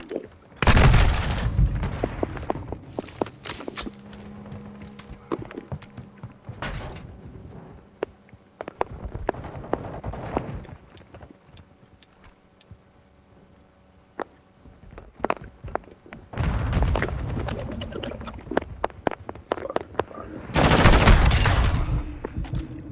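Bursts of gunfire ring out in a Modern Warfare 2 free-for-all match, with loud clusters of shots early and late and scattered single pops and footsteps in between.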